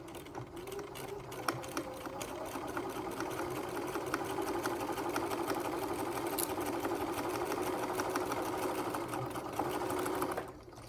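Sewing machine back stitching at both ends of a centered zipper seam, a steady close mechanical whir running nearly eleven seconds before stopping, no talk.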